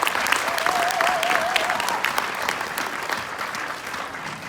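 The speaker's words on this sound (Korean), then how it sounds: "박수 치면서" Audience applauding steadily, a dense wash of many hands clapping that fades slightly toward the end, with a faint whistle-like tone early on.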